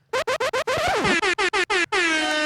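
Blaring air horn sound effect: a rapid stutter of about eight short loud blasts with a falling swoop, ending in one long sustained honk.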